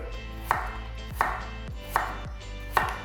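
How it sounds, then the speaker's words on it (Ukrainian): Four evenly spaced knife chops slicing a potato into half-rings against a cutting board, each a crisp thud with a short scrape, at a slow, unhurried pace. "І отак, не поспішаючи, напівкільцями нарізаю"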